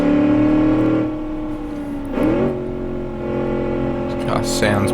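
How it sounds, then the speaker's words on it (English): Simulated engine of a Holden Commodore driven in the Automation car game hums in steady harmonic tones, dipping and rising as revs shift through tight corners, with someone talking over it throughout. "This car sounds beautiful, drives really nice and smooth power throughout."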